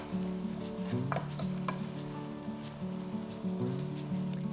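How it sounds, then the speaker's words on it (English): Hoppin' John simmers on low heat in a pan, a soft continuous bubbling sizzle with faint stirring, beneath a steady low hum and some tonal background noise. "we're just going to simmer this on low for about 5 minutes"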